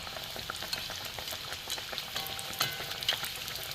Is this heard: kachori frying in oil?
yes